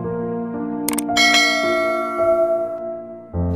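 A notification bell sound effect rings out alone, a few bright struck chimes with sustained tones, loud and close, with no talking.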